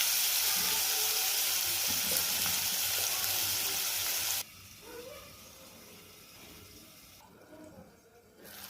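Tomatoes and masala for brinjal bharit sizzle loudly in a pan with a steady hiss, then the frying drops abruptly to a softer, quieter sizzle with faint stirring.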